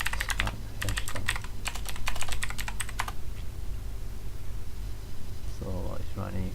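A command being typed on a computer keyboard: quick bursts of key clicks in several runs, close and clear, then a pause with a couple of last keystrokes near the end.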